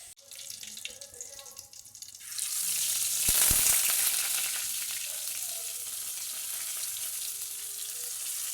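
Breadfruit pieces tossed in coconut oil with Kashmiri chili powder and salt start frying, a faint rattle and clink giving way after a couple of seconds to a steady, loud hiss and sizzle that continues to the end.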